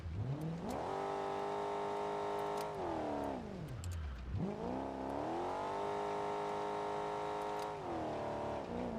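A 350 engine in the BeamNG driving game screams at high RPM with the valves floating, a loud, steady, buzzing drone that dips briefly as the revs fall and then climbs straight back up.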